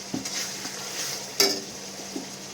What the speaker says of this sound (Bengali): জাস্ট 1 মিনিট মতো আমি সসগুলোকে নেড়ে নিয়েছি।